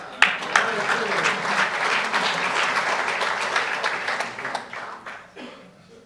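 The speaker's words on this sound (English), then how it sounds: "Let's give him a round of applause" Sustained audience applause at a police department awards ceremony, steady dense clapping from a sizeable crowd that carries on for several seconds before tapering off near the end.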